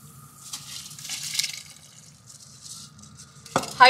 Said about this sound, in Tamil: தண்ணி நல்லா கொதிச்சிருச்சு, நம்ம வந்து அரிசி சேர்த்துக்கலாம்.